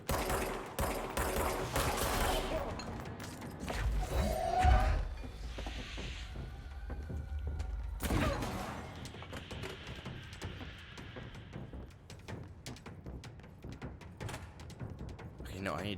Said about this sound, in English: That guy have like a grenade launcher?